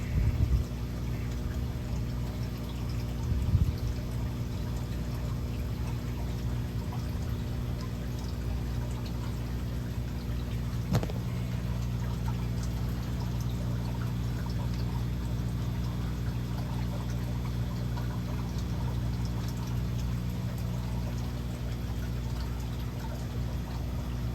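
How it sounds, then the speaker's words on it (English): Dechlorinated water poured into a nano aquarium tank makes a soft, continuous trickle and splash under a steady low hum, with a couple of faint knocks. "let's go ahead and get this guy filled up, and it's already dechlorinated water"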